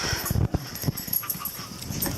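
Several dogs whimper and yip in short uneven bursts indoors, close by and fairly loud, with scuffling and panting between cries.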